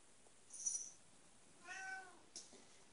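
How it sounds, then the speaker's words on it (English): A cat meows twice, a short high cry and then a longer wavering meow, followed by a brief squeak, in a quiet room. "Sammy Cat's talking out there"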